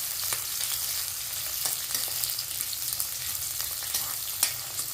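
Onions sizzle and fry in hot oil with mustard seeds in a pan while a pumpkin tamarind curry is being prepared, with a steady crackling hiss and occasional stirring scrapes throughout, no talk.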